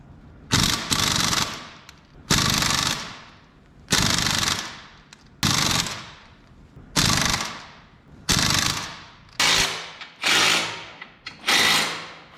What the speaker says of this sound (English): I'm just gonna hammer them on.